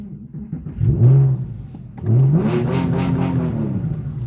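A warm car engine revs up as the car pulls away, two rising surges of engine tone, the second held steadily, close and fairly loud with no talking over it.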